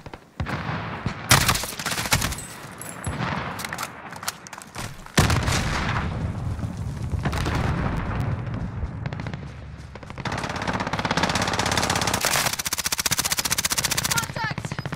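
Gunfire fills a Call of Duty: Modern Warfare match: loud rapid automatic bursts, single shots and heavy booms follow one another continuously, with voices speaking between and under the shooting.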